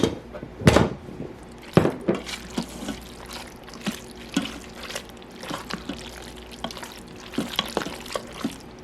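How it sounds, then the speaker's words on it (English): Sour cream being stirred into stroganoff in a pressure cooker, heard as wet, irregular scrapes and soft liquid slaps against the pot with a couple of sharper knocks, close and moderately quiet. "Time to stir in the sour cream."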